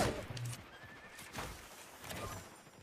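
A horse neighs in a video game, a quiet whinny accompanied by soft clip-clopping hooves.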